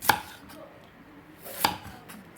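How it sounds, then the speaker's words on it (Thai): A sharp knife slicing through crispy fried pork for a Thai lime pork dish, giving two crisp, crunchy cuts about a second and a half apart against a quiet kitchen background. "หั่นให้เป็น ชิ้น ใช้มีดคมๆเลยนะครับ มันเอาแบบกรอบๆนะฟังเสียงมันครับ"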